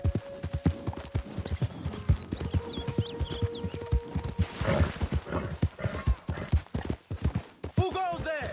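Horse trotting in Red Dead Redemption 2, a steady clip-clop running beneath voices and game ambience, with a snort or whinny near the end.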